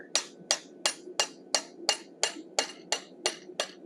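Steady hammer blows strike a chisel cutting the mouth into a forged steel wolf head, about a dozen sharp ringing metallic hits at an even, quick rhythm, close and clear.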